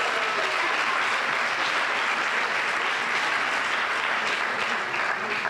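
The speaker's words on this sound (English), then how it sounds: "so give them a round of applause" Sustained audience applause at a youth graduation ceremony, a dense and steady wash of many hands clapping that holds at an even, fairly loud level throughout, with no speech over it.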